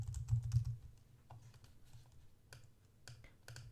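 Computer keyboard typing while writing JavaScript code: a quick run of soft, close key clicks, heavier at first and then sparser, with no speech.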